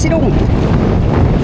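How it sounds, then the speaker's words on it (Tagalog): Strong wind buffets the microphone on a small fishing boat out at sea while fishing for tamban, a loud continuous rumbling roar with gusts and no break. "Grabe ang lakas ng agos at lakas din ng hangin"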